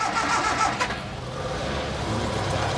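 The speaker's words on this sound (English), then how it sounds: "Adam's off to work in his Ford Cortina, Britain's best-selling car of the 1970s" A 1970s Ford Cortina engine runs and pulls away, a steady mid-pitched motor drone that swells briefly early on and then settles into an even hum at moderate distance.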